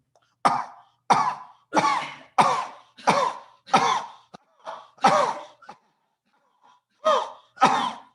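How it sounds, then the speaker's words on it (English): A series of sharp, forceful coughs in steady rhythm, about nine bursts with a short pause before the last two, close and alone. "I will start coughing."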